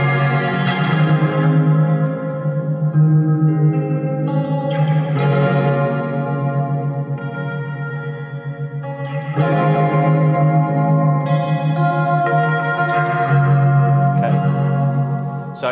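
Electric guitar chords ring out through tremolo, delay and reverb pedals with a pulsing tremolo wash, echoing repeats and a spacious reverb tail, played continuously without any voice.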